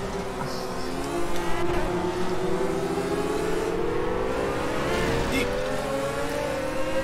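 V8 race car engine in the video game Project Cars VR, a continuous loud revving drone rising and falling in pitch as the car accelerates, with a voice briefly audible underneath.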